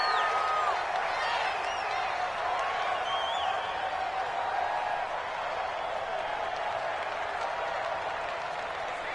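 A stadium crowd roars in an American football video game, a dense, steady wall of cheering and clapping that holds throughout while a commentator talks over it.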